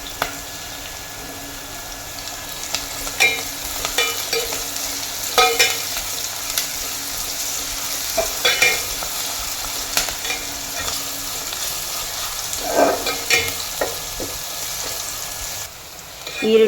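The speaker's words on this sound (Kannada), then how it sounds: "ಈರುಳ್ಳಿ ಮತ್ತು ಮೆಣಸಿನ್ಕಾಯಿನ ಚೆನ್ನಾಗಿ ಫ್ರೈ ಮಾಡ್ಕೋಬೇಕು. ಈರುಳ್ಳಿ ಬ್ರೌನ್ ಕಲರ್ ಬರೋ ತನಕ ಫ್ರೈ ಮಾಡ್ಕೊಳ್ಳೋಣ." Onions and green chillies fry in a pan for a chicken gravy, a steady close sizzle broken by scraping stirs and occasional clinks, with no talking.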